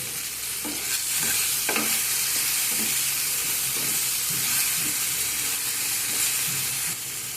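Salted tomatoes frying in a pan, a steady loud sizzle with a spatula scraping and stirring through it in repeated strokes, close and continuous.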